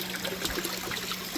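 Water trickling and spilling over the rim of a full temporary fish pond tank, a soft steady dribble with no talking, brief and close by.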